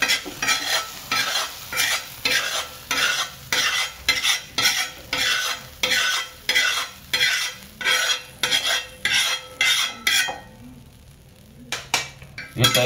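Egg kheema scooped from a pan into a dish with a metal spoon, a steady run of about fifteen rhythmic scraping, clinking strokes with faint sizzling underneath, ending in a brief quiet stretch and a few final taps.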